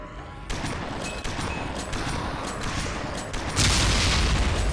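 Rapid weapon fire in the video game Dead Effect 2, a dense run of sharp shots and booms across most of the stretch, growing louder and heavier toward the end.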